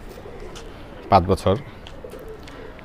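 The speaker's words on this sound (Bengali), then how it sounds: "এই যে একটা কবুতর আছে এটা আমার খুব পছন্দের কবুতর" A female loft pigeon about five years old gives a short burst of a few soft coos close by in a quiet setting, as a voice speaks briefly.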